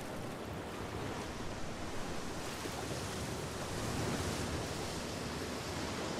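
Steady roar of sea waves and surf in the game The Last of Us Part 2, a constant broad wash of water noise with slow swells and no voices.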